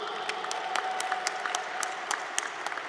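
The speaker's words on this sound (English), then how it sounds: "could we give them all a round of applause before we start?" An awards audience applauds lifetime achievers at the National Diversity Awards, steady crowd clapping from a large room with sharp individual claps standing out, moderately distant.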